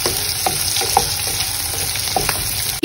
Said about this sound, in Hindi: प्याज को ज्यादा नहीं फ्राई करना है, हल्का बस पिंकिश कलर आने तक पकाना है